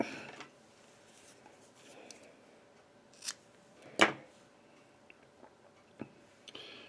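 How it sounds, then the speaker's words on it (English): Scissors snipping fly-tying material for a Clouser fly, one crisp close cut standing out among a few faint handling taps and rustles in a quiet room. "then I'm going to switch fingers and cut it"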